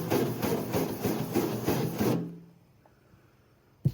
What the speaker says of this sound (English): I'm going to rub it into the metal with this stiff bristle wire brush